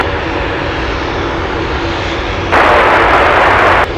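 Boeing 747 engines roar at Anchorage airport, a loud, steady close jet rumble that swells into a brighter, harsher blast partway through before easing back.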